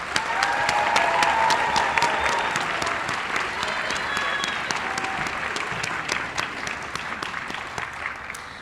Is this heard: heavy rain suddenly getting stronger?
no